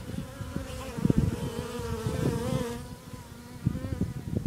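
Honeybees at a Japanese bee farm buzz close by, a steady droning hum with fluctuating pitch as individual bees fly near, continuous and fairly loud.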